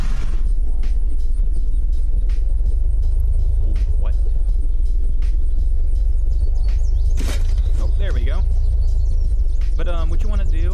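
In the Unturned video game, a vehicle runs over caltrops and pops its tires: a steady low engine rumble throughout, with sharp cracking bursts and scraping clatter rising near the end. People talk over it.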